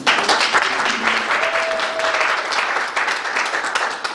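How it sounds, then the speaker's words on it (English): A crowd at a Franco-Anglo exchange program event claps loudly and continuously, dense rapid applause holding steady throughout with a faint brief tone beneath it. "Please clap for him."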